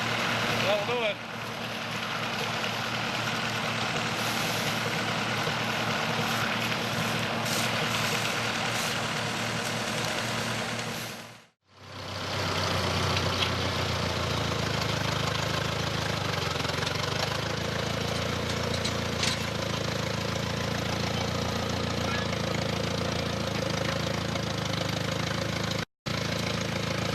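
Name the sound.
tractor engine running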